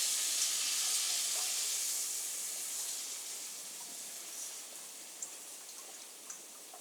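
Liquid hits a hot pan of miso risotto with a bright, steady sizzling hiss that slowly fades, broken near the end by a few tiny pops; no one speaks.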